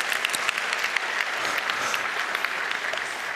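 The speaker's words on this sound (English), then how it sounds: "you can applaud that if you wish" Conference audience at the 29C3 hacker congress breaks into applause during a talk, a dense, even patter of many hands clapping throughout, moderately loud with no voices over it.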